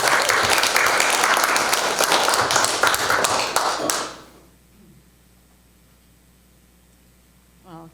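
Warm applause from a poetry-reading audience greeting poet Sherri Levine, dense clapping that holds steady for about four seconds, then cuts off abruptly into near silence, with a faint sound near the end.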